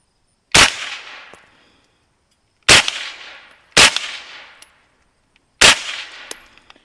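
Four sharp 9mm shots from a Henry Homesteader pistol-caliber carbine ring out on steel targets, each a crisp bang with a metallic clang and short ringing decay, spaced irregularly about a second or two apart, no voices.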